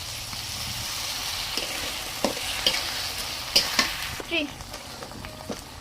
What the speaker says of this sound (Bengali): এগুলোকে একটু ভালো করে কষিয়ে নেব।